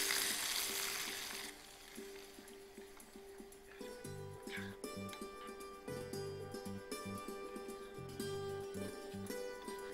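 Sev usal tari is stirred in a pan on the stove after the gas is switched off, with a soft sizzle and scraping stirring strokes. A steady hum runs underneath.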